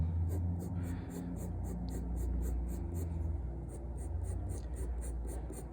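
A harder graphite pencil drawing hair on paper, a steady run of close, dry scratching strokes in quick repeated rhythm over a low background hum.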